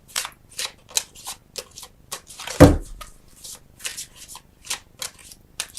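A Flower Therapy tarot card deck being shuffled by hand, with crisp riffling flutters repeating in an irregular rhythm and one heavier thump partway through, close and clear with no talking.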